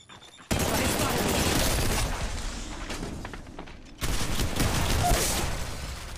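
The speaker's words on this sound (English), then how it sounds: "They're shooting at me" Gunfire in Apex Legends Mobile played on a phone, dense bursts of rapid shots and booms in two long loud stretches separated by a brief drop.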